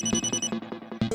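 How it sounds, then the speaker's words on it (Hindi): A telephone rings in a short, bright electronic pattern of rapid repeated tones, loud and close, heard alone without speech. "दया का फोन आ गया।"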